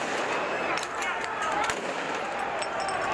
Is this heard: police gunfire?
yes